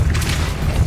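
A Depulso force spell is cast in Hogwarts Legacy, giving a short, loud, low boom with a breathy whoosh on top that fills the whole moment.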